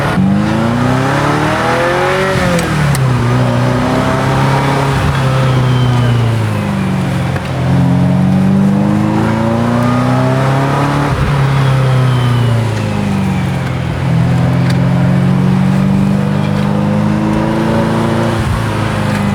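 A Ferrari 348 Spider engine, which revs to 7,500 RPM, winds up hard under acceleration, its loud, rising howl climbing through several gears with a brief dip at each shift.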